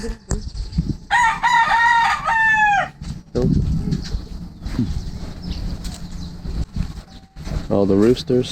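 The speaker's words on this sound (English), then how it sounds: "All the roosters, alarm clocks." Roosters crow repeatedly on Malapascua Island, Cebu, in the Philippines, with loud drawn-out calls near the start and again at the end, over steady background noise and some clucking.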